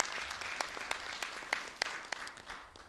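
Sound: parliament applause

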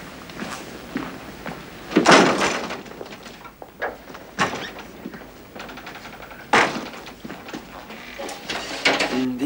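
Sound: heavy door being opened or closed

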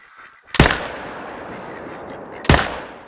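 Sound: rifle shot at fallow deer in theHunter Call of the Wild video game

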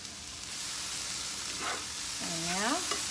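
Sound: stirring and frying tofu scramble in a pan

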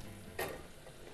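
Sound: apples frying in a pan with butter

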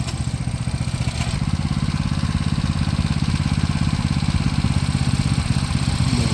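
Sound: motorcycle engine running with gear engaged

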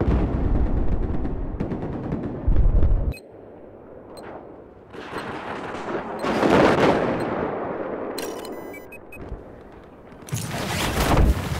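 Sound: machine gun fire in Battlefield 4 video game

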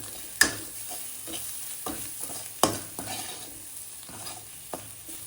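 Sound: stirring salt and red chili powder into frying mixed vegetables

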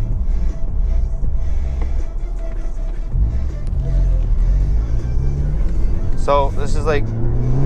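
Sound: 2016 Ford Focus ST driving and accelerating

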